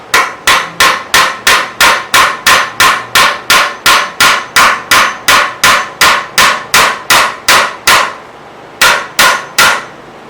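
A hammer drives nails to tack a 2x6 brace onto a wooden saw horse, about twenty sharp, evenly paced strikes in a fast steady rhythm, loud and close, with a short pause near the end before a few final blows.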